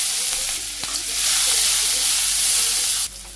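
Cumin seeds and chopped onion sizzle loudly in hot oil, a continuous bright frying hiss that cuts off abruptly near the end.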